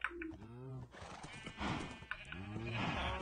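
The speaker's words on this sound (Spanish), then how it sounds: "Te dejo a tu Rocinante, el caballo más elegante." A horse in the Minecraft video game whinnies twice with clip-clop hoof sounds between the calls, fairly faint, with a voice speaking quietly underneath.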